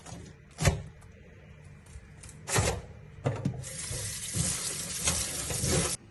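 Gurmar leaves being washed in a vessel of water for pittu, with splashing and running water, bursts of swishing and clunks of the container, ending in a longer continuous pour.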